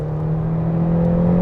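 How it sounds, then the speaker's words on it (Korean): A McLaren GT engine drones loud and close during a paddle-shift downshift, holding a steady, even roar for a brief moment with no voices over it. "이러면 우리가 또 패들 시프트 안 쓸 수가 없죠. 한번 단수를 내려보도록 할게요."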